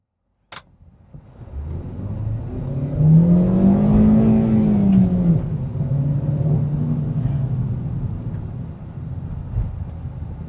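A Hyundai Venue's 1.2-litre petrol car engine revs up and pulls hard, its pitch rising then leveling into a steady, smooth drone after a brief click at the start.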